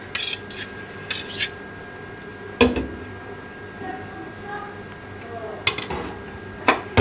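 Cooked rice being spooned into a pot over beef biryani masala gravy, with scattered clinks and scrapes of a spoon against metal and soft thuds of rice landing, under someone speaking.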